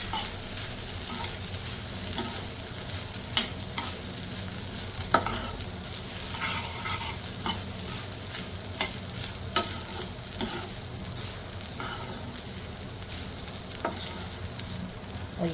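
Rice for a KFC-style chicken-over-rice dish stirred in a pot, a steady soft sizzle with scattered scraping clicks and a few sharper knocks from the spoon, alone and fairly quiet throughout.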